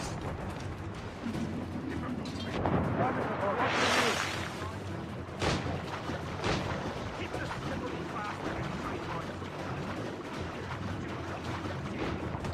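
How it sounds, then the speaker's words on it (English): Ship mortar fire in the naval game Assassin's Creed Rogue: a swelling whooshing burst around the middle and a sharp crack shortly after, set against sea and ship ambience, with voices talking over it. "Is that a ship mortar?"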